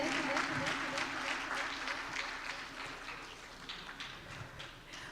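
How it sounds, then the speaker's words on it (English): Audience applause at an Asia summit prize presentation, steady dense clapping from a crowd lasting throughout, with some voices mixed in underneath. "A big round of applause, ladies and gentlemen."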